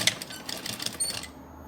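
A sewing machine stitches a handmade fabric doll slowly, giving a rapid, steady mechanical patter at close range for about a second before stopping.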